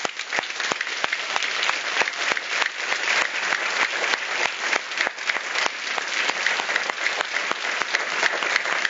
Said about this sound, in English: would you please all join in giving another round of applause for our graduates?